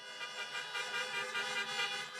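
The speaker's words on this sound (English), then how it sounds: "Honk, if you agree with me." At an outdoor campaign rally, many car horns honk together in a sustained, overlapping blare lasting a couple of seconds, fairly loud and steady.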